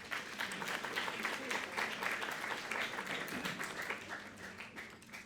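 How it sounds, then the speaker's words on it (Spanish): An audience at an international university law seminar applauds steadily. The clapping is dense and sustained for several seconds before it begins to thin out. "Así que nuevamente un fuerte aplauso"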